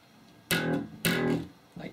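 Distorted bass riff starting on E, two heavy sustained notes and the start of a third, loud and gritty, played alone.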